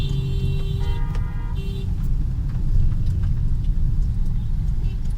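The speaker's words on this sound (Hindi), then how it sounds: "अभी हम डी में डालेंगे और ये गाड़ी चलना स्टार्ट हो गई" An automatic car pulls away on a busy road, a steady low engine and road rumble with short horn toots from nearby traffic at the start.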